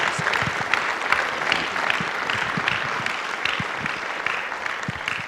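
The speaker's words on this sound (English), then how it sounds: "Can we get a round of applause?" Audience applause at the close of a talk on diversity, inclusion and social justice, dense continuous clapping from a room of listeners, even in level throughout with no voices over it.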